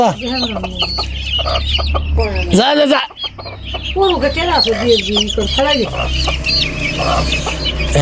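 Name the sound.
chickens clucking in coop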